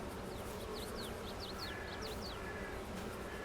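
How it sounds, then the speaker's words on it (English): A swarm of video-game bees buzzing steadily alongside cars, a dense constant drone under a row of short repeated chirping tones. "Okay, yeah, there is a lot of bees coming out of here."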